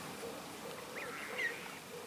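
Geese calling at a fishing lake, faint distant honks and squawks rising briefly over a steady outdoor wash of wind and water.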